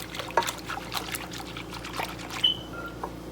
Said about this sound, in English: now I'm going to add this whole can of evaporated milk